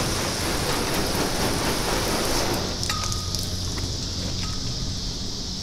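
Water from a hose sprayed onto a waxed car hood, a loud dense hiss like heavy rain for a few seconds, then easing to a lighter patter with scattered droplet ticks, close by and without talking.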